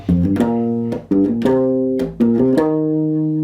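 A short electric bass guitar groove of plucked notes in a syncopated rhythm, clear and close, with a held low note at the end and no talking.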